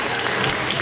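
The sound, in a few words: applause from wedding reception guests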